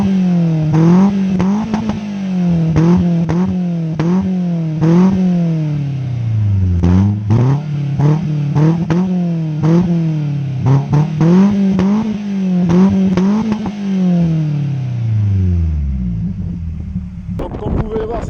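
A Peugeot 206 S16 with a 2.0-litre, 138 hp engine revs repeatedly, pitch rising and falling in a series of loud, close blips, with a clattering click near the end.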